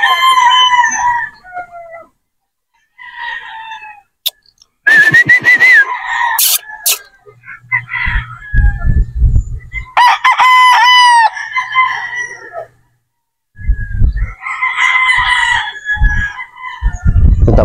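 A Boston Roundhead rooster crows loudly and close several times among bursts of clucking from nearby fowl, with short quiet gaps between calls.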